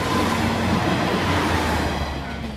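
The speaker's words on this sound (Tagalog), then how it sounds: "May dadaang train," A train rumbles past near a planetarium in Japan, a loud, steady, close roar of rolling wheels and rail noise that holds for the whole stretch and eases slightly at the end.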